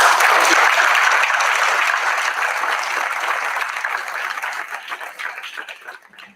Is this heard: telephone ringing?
no